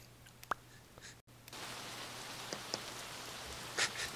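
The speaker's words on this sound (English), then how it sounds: "Why is it raining in Rupee Harbor? What the? Oh my gosh, man, come on. It's raining." Steady rain patters down in the CrossCode game's Rookie Harbor area, a dense, continuous hiss that starts abruptly after a brief silence and keeps on with a few scattered droplet taps.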